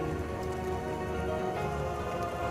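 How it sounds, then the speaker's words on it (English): Steady rain falls continuously, a dense even hiss that holds at constant loudness throughout with no pauses or distinct drops. "rain."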